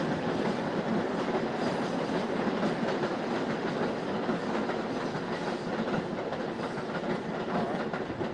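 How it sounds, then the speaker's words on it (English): A passing train roars loudly and steadily nearby, a continuous rumble with wheel clatter filling the whole stretch and no voices over it. "apologies for the loudness of the train going by"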